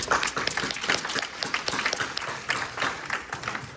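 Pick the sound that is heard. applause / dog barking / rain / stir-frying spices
applause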